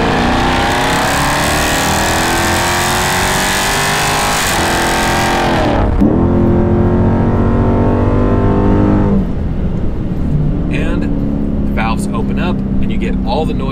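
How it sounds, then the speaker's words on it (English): A Dodge Charger Scat Pack with the 392 V8 accelerates hard with its exhaust valves open, the engine snarling loud and close as it climbs through the revs, with a brief dip at a gear change. "But when you want to hear it, you hit that loud pedal."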